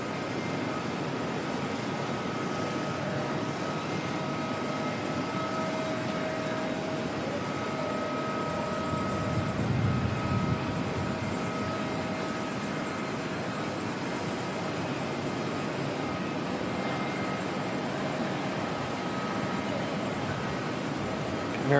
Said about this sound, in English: Barry Air aircraft there just coming in from Great Barrier Island, and Singapore 285 right behind it.